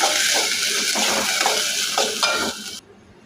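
Onions, green chillies and ginger-garlic paste fry in a pan with a steady loud sizzle, broken by rhythmic stirring scrapes, until the sound cuts off abruptly near the end.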